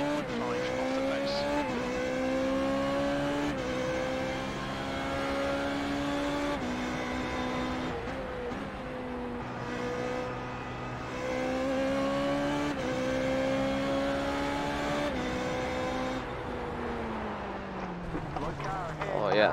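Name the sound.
Formula Renault 3.5 race car engine in iRacing video game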